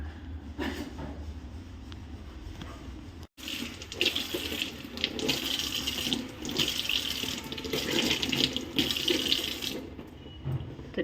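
A kitchen tap runs steadily while the paint-stained faucet is scrubbed by hand, water splashing into the sink with uneven scrubbing rustles, briefly cut off near the start, then close and continuous without talk.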